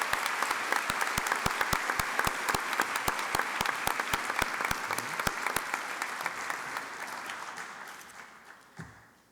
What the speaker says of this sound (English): So if you're here, I'd like to just give you a round of applause.